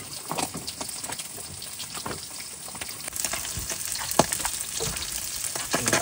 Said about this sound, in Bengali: বন্ধুরা মাছ ভাজা কিন্তু বসিয়ে দিয়েছি, মাছ ভাজা হচ্ছে